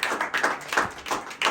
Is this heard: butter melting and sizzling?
no